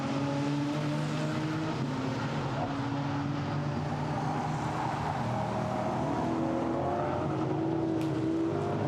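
GT4 race cars at Misano circuit roar past in a continuous, loud engine drone with shifting pitch as they accelerate and lift, while a commentator talks over it.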